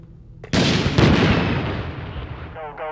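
Gunfire in the combat video game Six Days in Fallujah: a sudden loud shot or blast with a long rolling echo that decays slowly, followed by a faint voice near the end.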